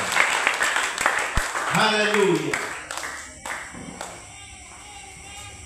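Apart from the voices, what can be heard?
congregation clapping hands for God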